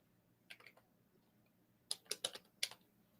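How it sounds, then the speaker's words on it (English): Quiet typing on a computer keyboard, a short cluster of clicks followed after a pause by a quicker burst of several sharp keystrokes, close and alone in a hushed room. "Let me grab my other keyboard."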